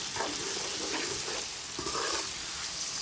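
Small fish frying in a pan with chili powder and salt over a medium flame, a steady, close sizzle running throughout with faint stirring scrapes and no talk.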